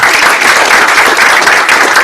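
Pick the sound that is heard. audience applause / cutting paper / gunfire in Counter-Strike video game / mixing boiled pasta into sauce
audience applause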